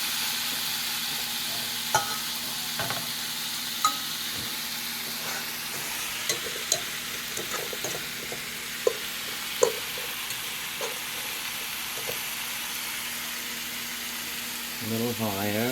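Meatballs browning in a frying pan with onions give a steady, moderate sizzle and hiss, broken by occasional pops and a few stirring clinks, with a low constant hum beneath and a voice near the end.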